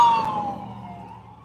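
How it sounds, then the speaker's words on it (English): A fire truck or ambulance siren wails past, its tone gliding downward as it fades into the distance over a second and a half, with no talking. "It's a fire truck. Ambulance."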